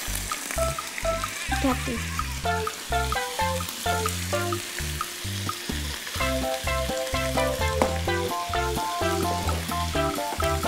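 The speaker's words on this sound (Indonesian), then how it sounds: "Lalu diaduk." Capcay vegetables sizzle in a hot pan while being stirred. Rhythmic tonal music plays over them throughout, and a short spoken word comes in briefly.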